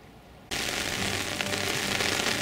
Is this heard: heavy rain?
yes